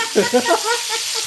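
Fish frying in a pan, a steady broadband sizzle running the whole short moment, with a voice speaking briefly over it near the start.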